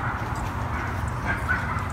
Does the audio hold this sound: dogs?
yes